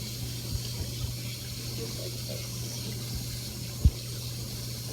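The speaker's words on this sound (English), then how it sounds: "So I'm going to turn the water on" Water runs steadily from a kitchen tap as items are rinsed, a constant hiss with a low hum beneath and a couple of small knocks, while a person speaks briefly over it.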